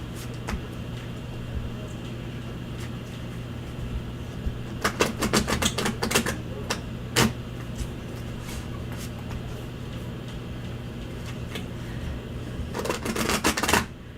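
Bursts of rapid crisp riffling, playing cards being shuffled in quick clusters with pauses between, over a steady low hum.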